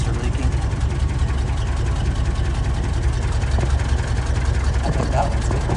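A 1967 Lincoln engine idling with a leaking exhaust after an exhaust rebuild, a loud, steady low rumble filling the whole stretch with no break.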